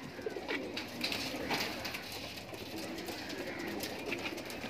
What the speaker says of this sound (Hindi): कबूतर छोड़े गए अभी।